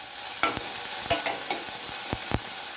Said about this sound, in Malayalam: ഈ ചതച്ചത് ഇത്രയും സാധനങ്ങൾ ചതച്ചത് ചേർത്ത് നമുക്ക് ഒന്ന് വഴറ്റിയെടുക്കണം